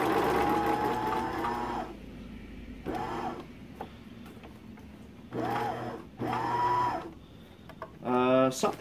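A sewing machine backstitches on a homemade heating pad, running in short start-stop bursts forward and in reverse, with a person talking between the runs.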